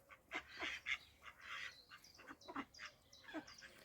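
Ducks in a farm enclosure quack and honk in repeated short calls, several birds overlapping at close range, irregular and fairly lively with a quiet background.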